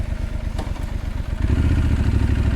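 A small motorcycle rides along close by, its single-cylinder engine chugging in a rapid, uneven rhythm that grows louder and steadier partway through.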